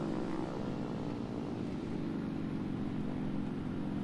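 A plane's engine in the War Thunder video game drones steadily and evenly, a continuous propeller-like hum held at a moderate level throughout, with no voices.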